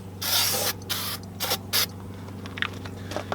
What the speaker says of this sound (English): Next, I've just got some carbon choke cleaner just to get the whatever's left off there.